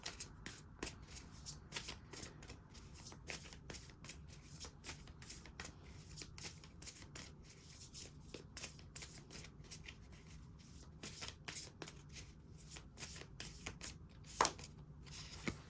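Tarot cards are shuffled steadily for a reading, a run of quick, crisp riffling flicks and soft slaps repeating close up with no one talking, ending in a sharper tap.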